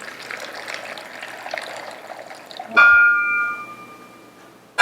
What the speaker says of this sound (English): We're going to add some water to our ingredients.